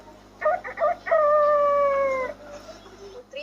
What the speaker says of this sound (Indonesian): dan ayam-ayam jantan pun mulai berkokok